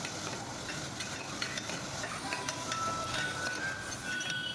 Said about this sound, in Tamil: நம்ம பொடியாக கட் பண்ணி வச்ச கேரட், பீன்ஸ், முட்டைக்கோஸ் எல்லாத்தையும் சேர்த்துட்டு நல்லா வதக்கிட்டே இருக்கணும்.